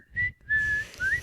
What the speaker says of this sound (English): Do you want to do the whistle part?